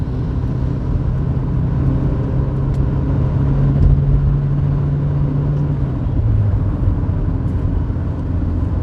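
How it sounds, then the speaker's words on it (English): A Rover 820 accelerating hard to overtake a truck, its engine a loud, steady drone held close from inside the car with road rumble beneath, the pitch rising and shifting late in the pull. "Down goes my foot, which means we're now accelerating towards the back of the bus"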